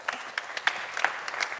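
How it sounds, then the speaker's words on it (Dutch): Audience applause for a newly appointed alderman at a public academy session on child poverty in Friesland, a short burst of clapping that fades out quickly. "Mag ik een applaus voor meneer Kuiken?"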